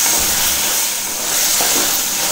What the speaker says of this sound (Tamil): இப்போ நல்லா 2 நிமிஷம் எண்ணெயில் வதக்கி விட்டுக்கலாம்